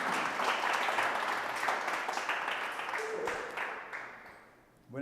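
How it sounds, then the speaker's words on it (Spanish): An audience applauds at a talk about radio and picotera sound-system culture, a dense sustained round of clapping that slowly fades over several seconds before a voice begins. "me da un aplauso a Walter Hernández."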